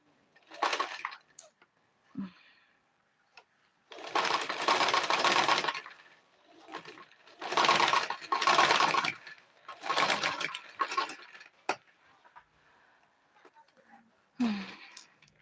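Sewing machine stitching a zipper onto a simple kids dress, running in several bursts of a few seconds each, separated by short pauses and quieter handling noise.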